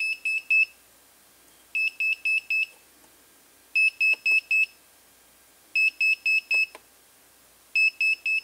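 An electronic alarm beeps in quick bursts of three or four shrill tones, repeating roughly every two seconds, clear and close in a quiet workshop setting with faint clicks between bursts.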